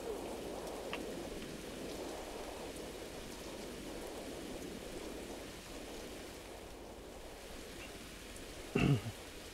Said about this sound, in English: Looks like this storm is picking up.